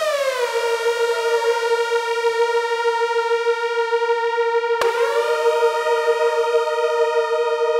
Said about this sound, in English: And then some sirens.